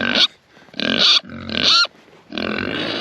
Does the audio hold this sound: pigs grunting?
yes